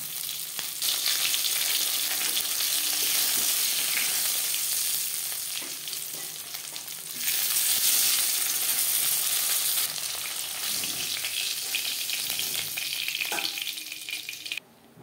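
Fish fries in hot oil in a pan, a steady loud sizzle and crackle with occasional stirring scrapes, briefly intensifying midway before settling again.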